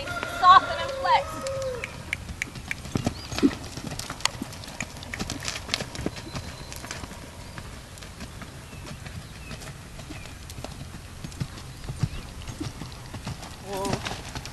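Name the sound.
horse trotting, hooves clip-clopping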